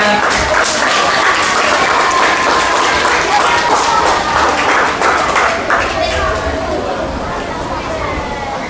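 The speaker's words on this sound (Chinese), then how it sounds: "来，热烈掌声，5年3班。" Loud applause from a school audience at a fifth-grade project presentation competition, many hands clapping close by before the sound tapers off, with some chatter and speech beneath it.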